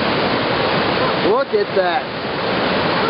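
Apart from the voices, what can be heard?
river rapids roaring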